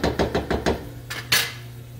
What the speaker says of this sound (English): Now I'm tossing it all together.